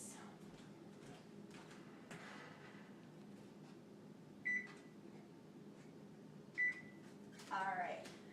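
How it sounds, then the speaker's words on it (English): An oven control panel beeps as it is set to preheat, giving three short, clear electronic tones spaced a couple of seconds apart over a quiet kitchen hum, with faint talk in the background. "make sure you preheat the oven to 350 degrees."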